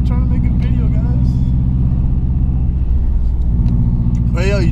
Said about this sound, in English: you do get the all-wheel drive wheel spin because of the the modifications on this car